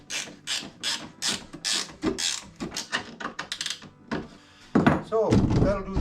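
A nut is spun and tightened onto a carriage bolt through a flat washer and a wooden shelf, with close rasping turns and a few knocks, ending under loud handling noise.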